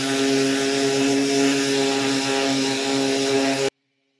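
A Makita DBO180Z random orbital sander running at speed 3 while stripping a finish gives a loud, steady motor buzz with a humming whine, close by, then cuts off abruptly before the end.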